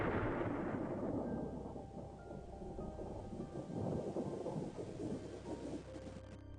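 A long, deep roll of thunder rumbling loudly, then slowly fading into steady rain.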